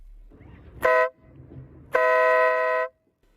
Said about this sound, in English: this is how the bike's horn sounds